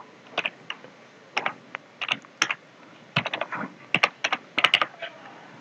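Someone types a number on a computer keyboard, producing quiet clusters of quick, crisp key taps separated by short pauses, close by with no talking.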